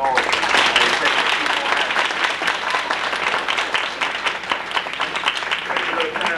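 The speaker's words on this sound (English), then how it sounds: "I would like for you to give them a round of applause." An audience at an athletic banquet gives a steady, full round of applause, dense clapping sustained evenly for several seconds with no break.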